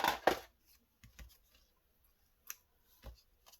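Scissors snipping through paper scraps from a scrap bin, with a few sharp close cuts and slicing sounds spaced irregularly in an otherwise quiet room.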